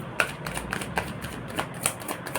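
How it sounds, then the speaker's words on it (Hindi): A deck of tarot cards is shuffled close up, with rapid papery riffles and soft flicking taps running continuously, steady and moderately loud. "now I am about to take cards"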